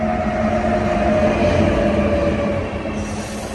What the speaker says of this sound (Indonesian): Oh, kereta api.